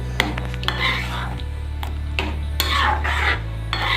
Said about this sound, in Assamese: পনীৰখিনি দিয়াৰ পিছত আকৌ ভালকৈ গুটেখিনি লৰাই দিম